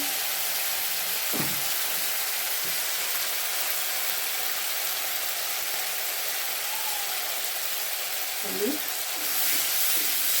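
Ginger, cumin and onion paste fries in a pan with a steady, even sizzle that holds for the whole stretch, broken only by a couple of faint knocks.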